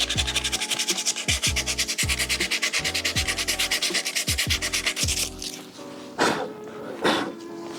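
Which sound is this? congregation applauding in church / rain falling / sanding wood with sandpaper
sanding wood with sandpaper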